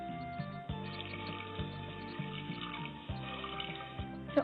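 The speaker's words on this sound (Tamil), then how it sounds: "கொஞ்சம் தண்ணி ஊற்றி வேக வைக்கலாம்." Water poured into a cooking pot of cowpeas, a steady running, splashing pour close by with no talking.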